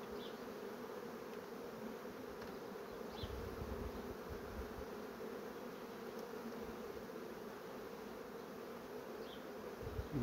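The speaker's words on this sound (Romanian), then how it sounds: "Văd că pe această ramă lucrează albina foarte bine." A low, steady drone of many honeybees buzzing close by on a hive frame, continuous and even throughout, with the odd faint higher insect whine passing.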